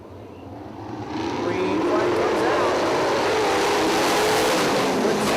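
410 sprint cars race at Lawrenceburg Speedway, a dirt oval. Their engine roar swells over the first two seconds and then holds as a loud, sustained drone, with a race announcer talking over it.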